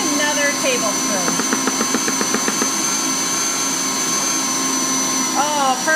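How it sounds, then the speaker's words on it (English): A stand mixer kneads breadstick dough with a loud, steady motor whine and a rhythmic thumping as the dough slaps around the bowl, continuous throughout. "So I'm actually just gonna let this knead itself for a while, and it should take care of that."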